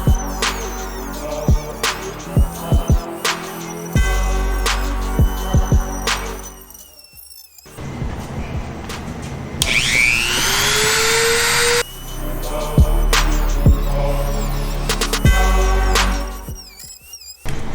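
A power cutting tool slices a wicker custom spoiler wing for an 82-92 Camaro along a marked line, whining steadily up close in long runs with short breaks and a few sharp pitch sweeps.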